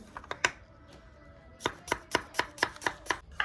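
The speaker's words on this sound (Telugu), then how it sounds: "ఎర్రగడ్డలని ఈ విధంగా సన్నగా పొడవుగా పోసుకుంటే మంచిగా వేగుతాయి" A knife thinly slices onions lengthwise on a cutting board for onion pakoda. Sharp, close chopping knocks come in a few quick taps, then a pause, then a steady run of about eight evenly spaced cuts.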